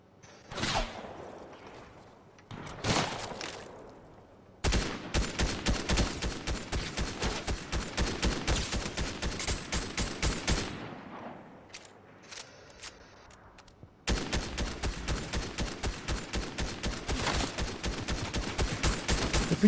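Rapid automatic gunfire from Fortnite rattles in long sustained bursts separated by short pauses, loud and dense, with a few isolated shots in the gaps.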